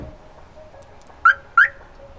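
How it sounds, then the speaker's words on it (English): Car alarm arming after the car is locked with the key, two short electronic chirps about a third of a second apart, near and fairly loud over a quiet background. "You have to close the doors and actually use your key to lock it and then turn on the alarm."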